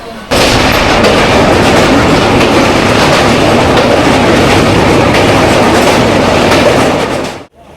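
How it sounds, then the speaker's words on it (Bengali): A train pulls into Siliguri railway junction with a loud, close, continuous rumble and clattering of wheels and carriages that holds steady until it cuts off abruptly at the end. "এ হচ্ছে শিলিগুড়ি রেলওয়ে জংশন এসে পৌঁছালাম সকাল আটটার মধ্যে"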